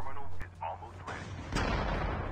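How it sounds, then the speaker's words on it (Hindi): A tank firing in Call of Duty Mobile, heard as a sharp boom followed by a rumbling roll of low blast noise, with a voice speaking over it. "ओए ओ भैया, टैंक टैंक"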